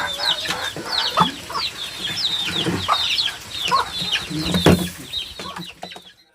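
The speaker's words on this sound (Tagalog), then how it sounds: "pumunta po si Kuya Bintot dito para humingi po ng manok kay Tatay Ronnie" Chickens clucking on a Filipino farm, a steady chorus of short, bright clucks and calls from several birds close by, continuing throughout with some rustling and occasional thumps underneath.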